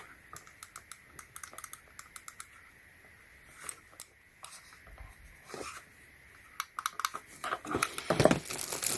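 Clicky keystrokes on a HYPERGEAR tactile gaming keyboard, tapped in quick irregular bursts with short pauses, close and fairly quiet, ending in a denser flurry of keys.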